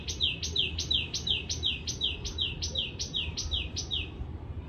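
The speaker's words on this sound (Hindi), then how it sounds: "चिड़िया बीच बीच में बहुत ही आवाज़ कर रही हैं, तो सुन लो" Songbirds chirp outdoors just after rain, a steady run of about a dozen sharp, evenly spaced high tweets over a constant low rumble of wind or background noise.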